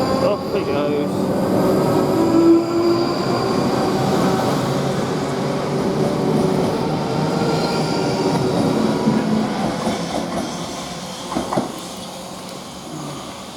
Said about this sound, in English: There goes my 458 train.